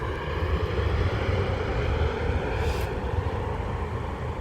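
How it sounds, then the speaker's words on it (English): A United Embraer 175 jet airliner passes at an airport, heard as a steady, loud broadband roar with wind buffeting the microphone throughout, holding level without a clear rise or fade. "And I think that's a United Embraer 175"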